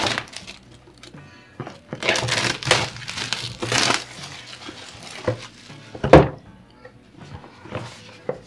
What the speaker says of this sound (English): Let me just remove the plastic of this camera here.